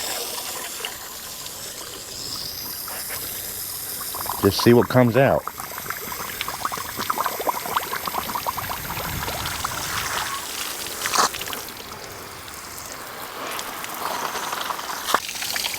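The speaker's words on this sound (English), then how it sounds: "I'm going to flush this with a hose and we'll see if get any rubbish" A hose flushes water through a cooling pipe on a Thorneycroft BMC 1.8 marine engine. Water rushes and splashes steadily throughout, with a louder gush partway through and someone talking over it.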